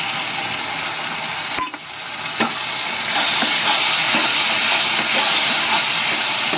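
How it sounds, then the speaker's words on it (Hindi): Yogurt poured into hot frying masala for a raw banana curry, giving a steady loud hiss and sizzle that swells partway through, with a few clinks and knocks from the pan. "इस दही को मैं डाल दूँगी। दही को डाल के हल्का सा भूनना है"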